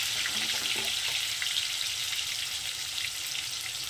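Potatoes seasoned with salt and turmeric frying in hot oil in a pan, a steady, loud, close crackling sizzle throughout with no talking.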